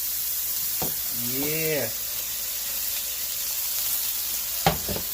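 Steak sizzles steadily in a hot pan, a constant bright frying hiss with a short spoken word and a brief clatter near the end.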